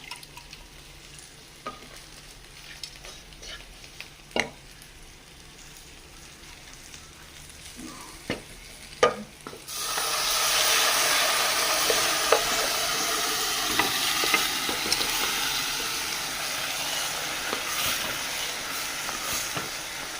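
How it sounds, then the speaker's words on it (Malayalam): Cooked mutton tipped into a pan of frying masala for a mutton roast; a few sharp clatters come first, then a loud, steady sizzle swells up and holds alongside occasional scraping from the stirring. "ഇനി നമുക്ക് നമ്മുടെ വേവിച്ച് വെച്ചിരിക്കുന്ന മട്ടൺ അതിലേക്ക് ഇട്ട് കൊടുക്കാം"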